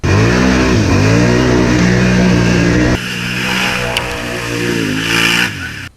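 A 2009 Can-Am Outlander 800 MAX ATV engine revs loudly up close, a steady strained roar that drops to a lower idle-like drone halfway, then rises briefly before cutting off.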